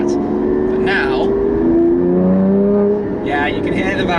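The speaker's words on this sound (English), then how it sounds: "you can hear the valves opening up there" Porsche 981 Cayman GT4 fitted with an iPE exhaust, the engine note swelling louder as the exhaust valves open, with steady engine drone and a voice talking over it.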